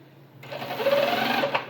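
Sewing machine stitching a shirt collar, starting after a short pause and running in a fast, steady whir of needle strokes for just over a second, close and clear.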